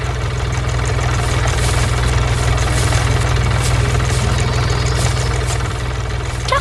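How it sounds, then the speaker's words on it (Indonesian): A red tractor pulling a hay baler drones steadily and loudly, its low rhythmic thrum unchanging throughout at a constant pace. "Traktor merah bersama mesin pengumpul jerami sedang bekerja keras."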